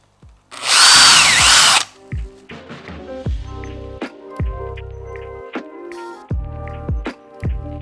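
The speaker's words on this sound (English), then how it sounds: "The first thing I do is just drill the corners." Power drill boring through corners of carpet laid over wood, with a loud sustained whine for about a second followed by a series of shorter drill bursts, taps and handling clatter close by.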